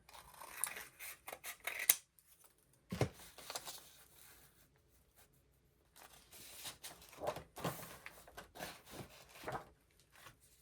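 Paper being trimmed for a junk journal made from master board art, with scattered snips and cutting scrapes in separate bursts across the stretch, fairly close and moderately quiet, with no talking.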